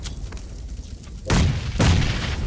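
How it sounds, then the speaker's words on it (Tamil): Two heavy booms roughly half a second apart in a battle royale shooter, the second one landing after a short gap, loud and close with a rumbling low tail and nobody speaking over them. "நேடு போட்டேன் ப்ரோ"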